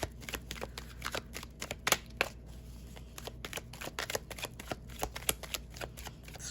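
Tarot cards are shuffled steadily by hand, a dense run of crisp riffling clicks and flicks close up with no voices.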